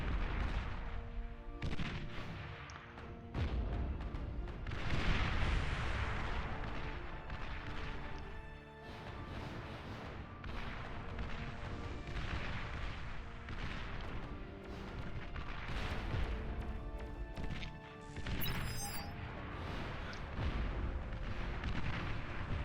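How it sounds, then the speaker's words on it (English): Dense, continuous barrage of rocket launches and explosions in the real-time strategy game Beyond All Reason as a destroyer comes under heavy naval fire, booming and crackling without pause throughout. "That's a lot of rockets coming at that destroyer though."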